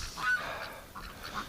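Ducks sitting in a snowy nest give a few short, nasal honking calls in quick succession, close and moderately loud, with no talking.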